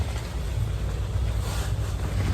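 Strong wind gusting across the microphone during a dust storm at Burning Man, a steady close rumbling roar with no voices.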